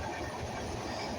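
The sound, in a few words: Madhumati Express passenger train starting to move in rain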